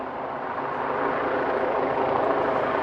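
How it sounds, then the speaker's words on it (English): Police helicopter hovering overhead, a steady broadband rotor roar with no distinct blade chop, holding loud and constant throughout. "We have a police helicopter above."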